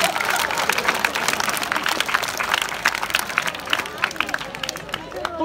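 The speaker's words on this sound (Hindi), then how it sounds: "ताली बजाओ गंजों के लिए" Audience applause at a live comedy show honoring bald men, a dense, steady wash of clapping lasting throughout, with some crowd babble mixed in.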